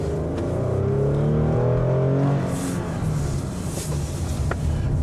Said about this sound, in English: Burning the rubber.